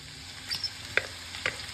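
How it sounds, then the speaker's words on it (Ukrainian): Chopped pork fat frying with freshly added sliced green onion in a pan for traditional Ukrainian pastry, a soft continuous sizzle broken by a few sharp scraping clicks of stirring, close and alone. "Додаємо до просмаженого сала нарізану зелену цибулю."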